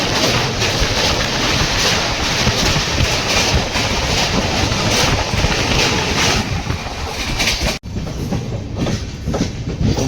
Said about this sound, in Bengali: ডাটিয়া স্টেশন ছেড়ে যাচ্ছি।